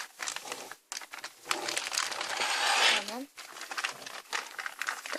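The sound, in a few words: plastic zipper bag being handled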